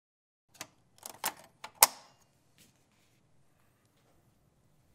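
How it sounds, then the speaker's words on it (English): A computer hard drive cradle snapping back into its hinge and side tab, a few sharp close plastic clicks and clatters clustered within about a second, then quiet. "Place the hinge into the tab on the side and firmly click the cradle back into place."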